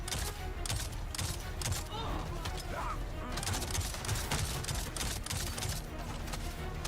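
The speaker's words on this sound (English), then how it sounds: "The slow-mo slide and shoot was slick." Rapid bursts of gunfire crackle through a game's slow-motion slide, with dense, repeated shots layered over constant background noise for several seconds and some talk mixed in.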